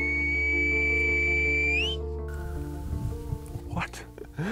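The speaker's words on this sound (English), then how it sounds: "the islanders aren't just whistling for fun, they are communicating with one another across great distances" A long steady whistle from a La Gomera islander, part of the Silbo Gomero whistled language, holds one pitch then bends upward and cuts off, followed by quieter scattered sounds and a faint second whistle at the end.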